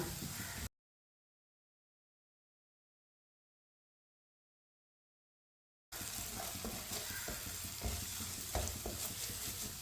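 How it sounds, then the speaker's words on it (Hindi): Spices frying on low heat in a pan while stirred with a spoon, for an egg dish: a steady close sizzle with scraping stir strokes, interrupted by a stretch of complete silence before resuming. "मसालों को 1 मिनट के लिए मैंने पका लिया है चम्मच चलाते हुए"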